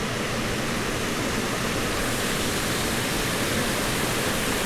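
A waterfall in Cuyahoga Valley National Park, a steady loud broadband rush of falling water filling the scene without pause.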